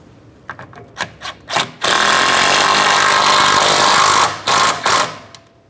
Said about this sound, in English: Start in that 13mm headed bolt and snug it up.